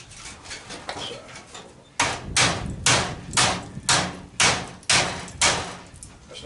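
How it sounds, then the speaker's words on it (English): Repeated hammer blows on the copper and aluminum coil of a scrapped A-frame AC unit, about nine sharp metallic strikes in a steady rhythm, close and loud, with fainter scraping before them. "Not sure how well the hammer will work."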